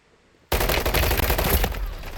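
After a brief quiet moment, a loud, close burst of rapid automatic gunfire erupts in Call of Duty: Warzone on Rebirth Island and rattles on for the remaining couple of seconds.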